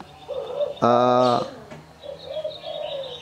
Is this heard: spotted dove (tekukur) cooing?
yes